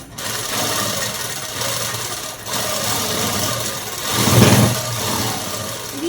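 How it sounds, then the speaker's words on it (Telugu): A sewing machine runs steadily while stitching a straight seam in lining cloth, giving a continuous close motor hum with a brief dip in the middle and a slight surge near the end. "లైనింగ్ క్లాత్ అనేది ఇలా పట్టుకొని ఇంకా స్ట్రైట్గా కుట్టు వేసుకోవాలి."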